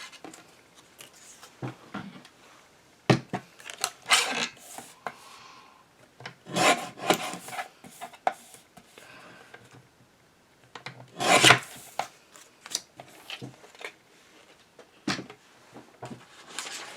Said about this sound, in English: I'll trim a little bit off the edges.